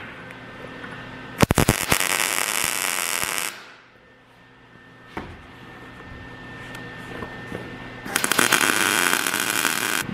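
MIG welder laying down weld beads on a welding cart, giving a loud continuous crackling sizzle in two bursts of a couple of seconds each, separated by a quieter gap of low hum and faint clicks, with no talking.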